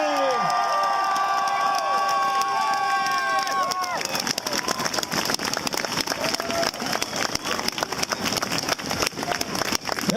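A crowd at a Tremblant celebration of Olympic athletes cheers and applauds loudly, a sustained roar of clapping with shouts and whistles that stays dense throughout.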